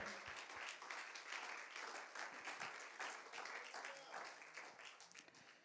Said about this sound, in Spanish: Give a hand of praise to the Lord.